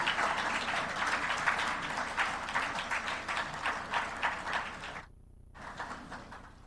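A conference audience at an annual general meeting's opening ceremony breaks into steady, dense applause that fills the room for about five seconds, cuts out briefly, then returns more faintly.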